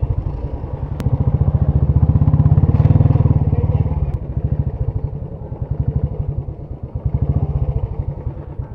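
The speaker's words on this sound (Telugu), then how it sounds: "ఇప్పుడు బైక్ పార్కింగ్ చేయాలి." Motorcycle being moved into parking at a hillside temple, its engine running close with a steady, throbbing idle that rises briefly then settles, a couple of sharp clicks along the way.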